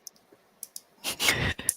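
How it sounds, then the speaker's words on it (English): Lego bricks clicking together, a few small sharp clicks followed by a breathy exhale-like burst and one more click, close and quiet. "Let's listen to the calm and peaceful sounds of Lego pieces clicking together."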